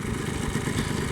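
A Yamaha Blaster two-stroke engine idles steadily after a top-end rebuild, a low, even chugging rumble with slight clatter, close and continuous throughout.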